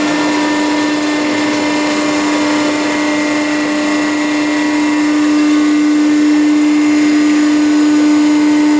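A Pratt & Whitney 1/2B gun drill starts up and runs in a loud, continuous machine drone with a strong steady hum and a constant whine, with no talking.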